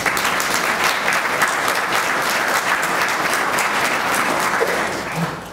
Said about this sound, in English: That in and of itself deserves a round of applause.